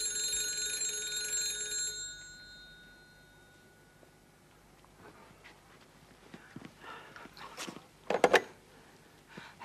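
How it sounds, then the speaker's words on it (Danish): A telephone bell rings in a home, a clear steady ring lasting about two seconds before it stops, followed by quiet room noise and a few faint clattering knocks. "Dette er telefonen i Mr. Bellamys hjem"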